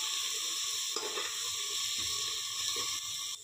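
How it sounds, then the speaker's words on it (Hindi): Spiced keraw (peas) fry in a pan with a steady, close sizzle and hiss, broken by faint stirring scrapes. "इसको भी हम 2 से 3 मिनट फ्राई करेंगे।"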